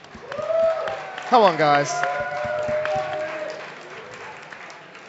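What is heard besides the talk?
applause from election night audience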